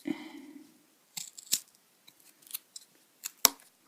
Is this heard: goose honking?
no